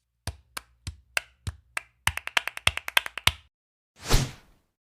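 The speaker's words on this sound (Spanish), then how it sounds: "Hoy vamos a ver las palmas por sevillanas." Flamenco palmas for sevillanas: sharp hand claps, first a few spaced beats, then a quicker run of crisp claps in rhythm. The claps are close and alone in a quiet room. A short breathy rustle follows.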